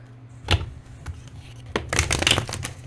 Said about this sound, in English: This deck is also quite easy to shuffle.